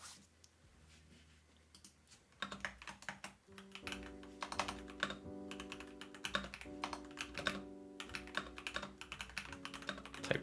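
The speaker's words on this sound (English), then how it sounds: "Typing that out." Rapid, uneven clicking of fingers typing on a computer keyboard runs through the whole stretch, close and clear, with steady background music tones entering partway through.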